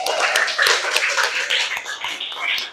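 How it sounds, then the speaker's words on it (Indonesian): Participants in a teacher training session clap for themselves after finishing a group activity, a short burst of mixed, uneven hand claps over a busy room. "tepuk tangan untuk kita."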